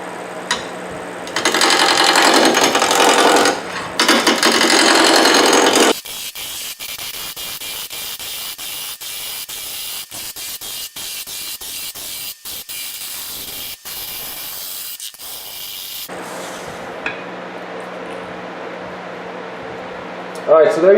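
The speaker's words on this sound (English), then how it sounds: "So I'm going to put this in the lathe, spin it, and we'll see how this comes out." A wood lathe spins a segmented wooden peppermill blank with a steady whirring hiss, loudest at first and then continuing more quietly under a person talking.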